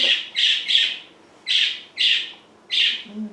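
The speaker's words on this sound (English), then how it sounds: "Parakeet." A parakeet gives loud, close, high-pitched chirps, alone: a quick run of three, a pause, then three more bursts spaced about half a second apart.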